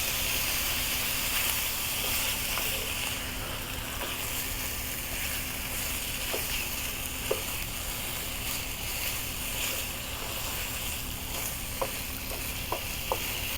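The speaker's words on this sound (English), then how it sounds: "we'll take our diced beef and just add it straight in here" Diced beef searing in hot corn oil in a pan for a one-pan beef curry stew, a continuous loud hiss and sizzle with a few faint clicks scattered throughout, no talking.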